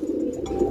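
Pigeon cooing up close, a soft continuous low burbling call lasting under a second, heard among racing pigeons kept for sale.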